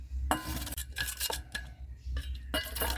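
A homemade green colour poured and pressed through a kitchen strainer, with repeated scraping and metallic clinking strokes of a spoon against the mesh, close and irregular with brief pauses.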